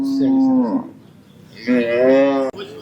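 A cow moos loudly and close by at a country cattle market, two long drawn-out lows separated by a brief pause.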